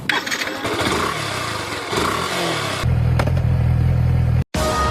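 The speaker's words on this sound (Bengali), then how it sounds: "ভাবলাম একটু বাইক চালিয়ে ক্যালোরি বার্ন করি" A motorcycle engine runs close by with a steady, loud rumble and some clattering mechanical noise, cutting out briefly near the end before resuming.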